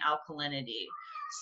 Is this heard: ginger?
no